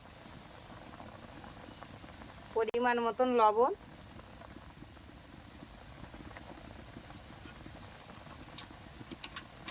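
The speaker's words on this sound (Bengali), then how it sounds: "এই ঝোলটা ফুটছে" A thin fish broth with bele fish and turmeric simmers in a pan, a soft, continuous bubbling and popping close by, with a brief spoken remark partway through.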